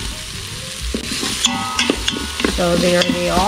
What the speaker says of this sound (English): So I've chopped my onion and grated my garlic and my ginger. I put them into my Instant Pot that I preheated on the saute function.